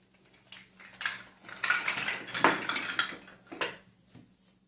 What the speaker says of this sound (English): And then you have a cutting board with a knife.